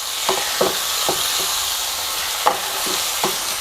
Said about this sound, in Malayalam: എന്നിട്ട് എല്ലാം കൂടി കൂട്ടി യോജിപ്പിച്ചങ്ങ് ഇളക്കി കൊടുക്കാം